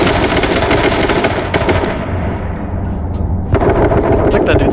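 Rapid automatic gunfire in a multiplayer video game shooter, loud and close, with dense bursts of shots continuing almost without pause and a brief thinning midway before the firing picks up again.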